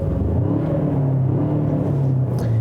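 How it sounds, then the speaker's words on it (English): A 2019 Ford Ranger XLT's turbocharged 4-cylinder engine idles steadily just after starting, a close, continuous low rumble and hum with no talk over it. "Now you can see, or you can hear the engine."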